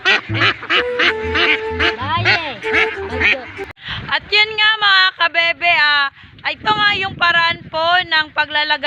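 Ducks on a duck farm quack loudly and close, a dense overlapping chorus of harsh, repeated calls with brief pauses. Light wind buffets the microphone.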